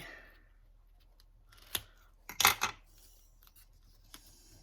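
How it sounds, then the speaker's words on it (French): Scissors snip through paper while a birthday card is made from scrap paper: a single crisp cut, then a louder double snip and a faint click, close up and without speech. "Là, je vais le couper."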